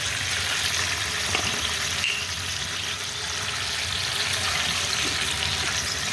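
Cashew and melon seed paste fries in a pan with turmeric while making a paneer dish, giving a steady, close, hissing sizzle with faint crackles that continues evenly throughout without talking.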